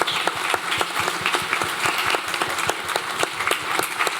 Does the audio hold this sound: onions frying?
no